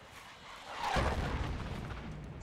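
A single dull mortar smoke round lands in the military shooter Project Reality, a low thud followed by a fading rumble in an otherwise quiet battlefield.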